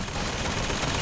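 Gunfire in the video game Bioshock Infinite, a short, dense stretch of continuous shooting noise with no pauses, loud and close.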